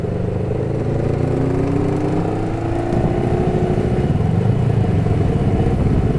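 A Suzuki Katana barn-find motorcycle rides along with a loud, continuous engine drone and wind rush, the revs shifting up and down as it travels.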